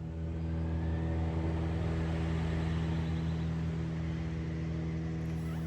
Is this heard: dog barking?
no